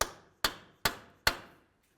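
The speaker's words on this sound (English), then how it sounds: "grab a hammer and a punch. We're going to come right in the center here and break the axle free from the wheel bearing" A hammer strikes a punch to free the CV axle from the wheel bearing on a driver-side 2007-2012 Nissan Sentra. Four sharp metallic blows land close and evenly spaced, each ringing out briefly, with no talking.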